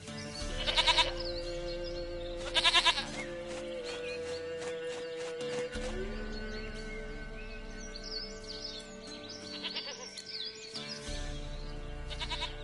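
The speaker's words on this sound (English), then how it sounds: "Goat of mine, dearest, sweetest goat." Goat bleats from the video game The Witcher III: Wild Hunt come in short bursts over ambient game music and hoof-like clopping, moderately close and without talk.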